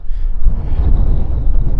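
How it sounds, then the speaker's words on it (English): Strong wind on a mountain in the Lake District Eastern Fells buffets the microphone in a steady, heavy low rumble that roars on without a break. "It's just very, very, very windy."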